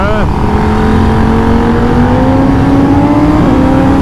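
Moto Morini 1200 Corsaro ZT motorcycle engine droning loud and close, its pitch climbing steadily after a quick gear change near the start, with another brief shift break near the end.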